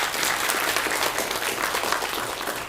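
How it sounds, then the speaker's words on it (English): Sustained audience applause at a Youth Sunday church service, a dense steady clatter of many hands clapping together that continues evenly at full strength from start to finish. "give them one more round of applause, please."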